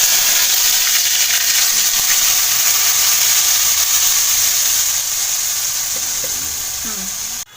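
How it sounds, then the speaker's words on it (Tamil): Mustard seeds sizzling in hot oil over a slow flame while an egg masala curry is being made, a loud close and steady crackling hiss that carries on almost unbroken and eases slightly at the end. "இப்போ நம்ம கடுகு நல்லா போட்டுக்கலாம்."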